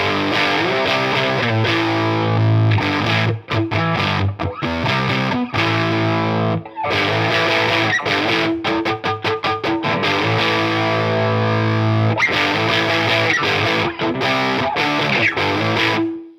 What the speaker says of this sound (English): it is a Boss pedal that is a phenomenal fuzz